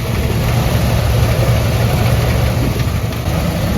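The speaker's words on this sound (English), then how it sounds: "it fires right up. You hear it idle." A 1979 Ford F-150 SuperCab pickup engine idles steadily with a deep, rough rumble, loud and close, with no voices.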